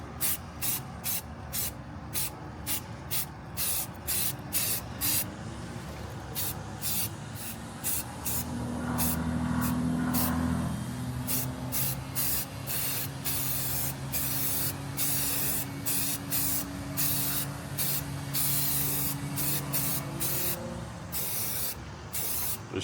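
Rapid pulsing bursts of spray paint hissing onto a steel frame for a G-body El Camino, close and loud, with a low hum underneath partway through.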